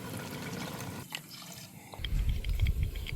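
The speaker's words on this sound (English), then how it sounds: "I'm gonna put some water in as well," Water is poured into a pot of green curry chicken with coconut milk, a close, steady splashing and trickling that swells louder during its second half.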